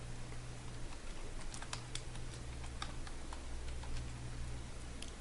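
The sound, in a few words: typing "Windows Explorer" on a computer keyboard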